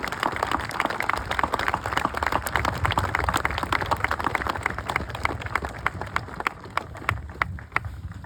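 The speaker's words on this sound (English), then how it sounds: "Give them a round of applause." An outdoor audience at a living history weekend with a battle reenactment gives veterans a round of applause: dense, moderately distant clapping that holds steady and thins out toward the end, with no speech over it.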